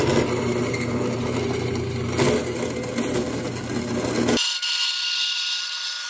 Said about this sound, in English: so that way we turn this awesome horizontal saw into a big vertical bandsaw